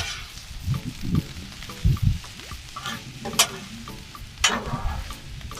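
Sliced button mushrooms cook on a Blackstone griddle with a soft, low sizzle, broken by scattered scraping and spatula clicks as they are spread out.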